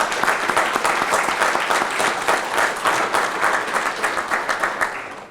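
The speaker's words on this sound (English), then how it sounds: "So just a round of applause" Sustained applause from an audience at a fire academy graduation ceremony, dense and steady hand clapping that fills the whole stretch before gradually thinning toward the end.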